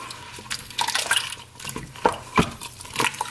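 Pea soup being mixed with a big spoon inside an Instant Pot, giving soft wet sloshing and scattered clinks of the spoon against the pot, a few sharper knocks near the middle, close and fairly quiet.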